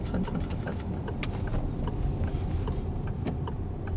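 A car's turn signal ticks steadily during a driving lesson, a faint regular clicking over the low hum of the engine and road noise, with no talking.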